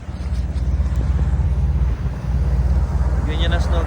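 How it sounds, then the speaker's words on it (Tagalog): Steady, roaring wind blowing fine snow during a Calgary winter buffets the microphone with a constant low rumble and gusty texture, loud and continuous throughout. "Napakalakas ng hangin."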